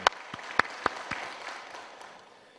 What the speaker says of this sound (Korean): 우리 주님께 감사와 영광의 박수 드립니다